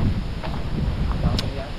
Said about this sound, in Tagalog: Malakas ang hangin ngayon ah.